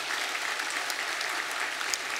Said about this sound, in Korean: 귀한 믿음의 가정, 복된 믿음의 가정 되도록 우리 박수로 격려하겠습니다